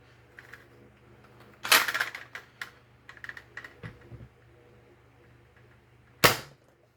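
A Zuru X-Shot Reflex 6 foam dart blaster fires with two sharp, close snaps several seconds apart, separated by softer clicks and handling noises in an otherwise quiet room.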